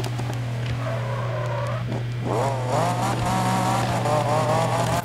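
A tuned Nissan Fairlady in Need for Speed 2015, driven through a tunnel, revs and accelerates with rising engine pitch, the exhaust note steady and up front, with no talk.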